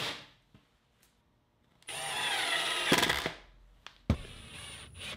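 A long drill bit bores a pilot hole through a wall for a ductless mini-split air conditioner install, with a loud sustained drilling burst, a pause and another short burst, close up with no talking.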